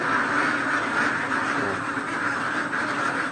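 Ducks quacking steadily in a crowded duck pen, a dense, continuous chorus of overlapping calls close by with no clear pauses.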